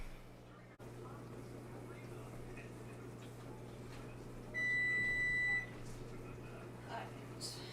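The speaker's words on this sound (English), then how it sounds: "turn the timer off" A kitchen timer beeps near a stove where eggs are boiling, a single sustained electronic tone lasting about a second over low steady hum and quiet room noise.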